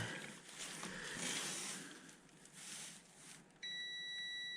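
A steady electronic beep from a circuit tester checking wiring in an electrical distribution board switches on near the end, a clear continuous tone after a stretch of quiet rustling.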